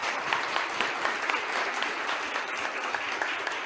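A seated audience at a packaging-design and circular-economy panel applauds the four panelists with dense, continuous clapping that holds steady and fairly loud throughout.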